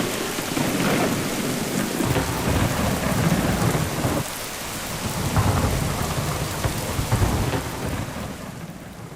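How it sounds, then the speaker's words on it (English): A severe thunderstorm sweeping through Kensington, Maryland, with loud rolling thunder over steady heavy rain, a continuous dense roar that swells and eases but never stops. "Just loud thunder, vivid lightning as that storm here swept through Kensington, Maryland."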